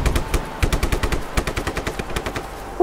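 Rapid automatic gunfire in the video game Just Cause 3, a close, loud string of sharp repeated shots in quick bursts with brief uneven gaps.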